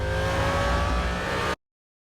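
A Koenigsegg supercar engine in the film Need for Speed roars with a steady, loud revving drone and a whining tone for about a second and a half before cutting off abruptly to silence.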